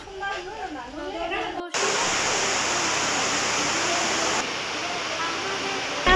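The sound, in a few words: rain falling outside the resort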